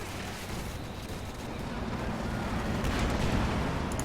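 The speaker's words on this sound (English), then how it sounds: "Sherman's gonna land a nice hit there" Sherman tank cannon fire and battle noise in Company of Heroes 2, a dense, loud rumble of explosions and gunfire building slightly toward the end, with no clear single isolated shot.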